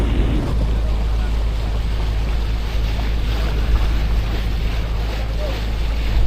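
A boat out on the Pacific Ocean in strong wind, with steady wind buffeting and water rushing around the hull as a constant loud roar throughout, without pauses.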